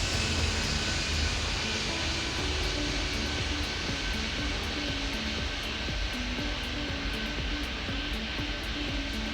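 A fixed-wing airplane takes off from a runway, a steady, loud broadband engine roar holding level throughout with no talk over it.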